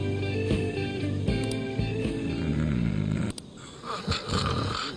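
Video game characters in Persona 5 Strikers snore in loud, rhythmic, throaty rumbles that repeat several times and then give way to softer snorts and breathy sounds.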